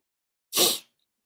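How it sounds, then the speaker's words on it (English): A single sharp sneeze, close and loud, bursting out briefly in otherwise silence. "Am I gonna sneeze again?"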